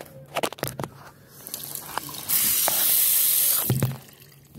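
A few clicks and small mouth noises lead into a sustained rush of water swishing with toothpaste in a mouth for over a second, followed by a couple more soft knocks.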